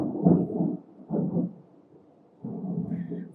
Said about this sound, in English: there's also a thunderstorm starting up too